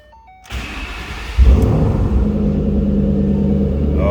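A 2011 Ford Mustang Shelby GT500 V8 engine starts up and settles into a deep, throaty rumbling idle from a loud Borla exhaust, close and steady.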